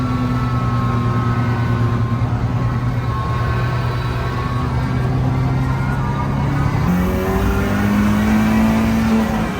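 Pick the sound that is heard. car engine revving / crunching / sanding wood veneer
car engine revving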